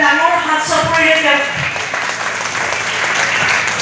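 Applause for the winner of a marathon race, broad steady clapping from a crowd that slowly thins, heard together with a loud voice speaking over it.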